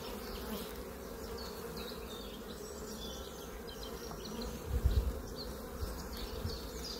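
A honeybee swarm at the hive makes a continuous close buzzing drone that stays steady throughout, with a brief louder swell near the end.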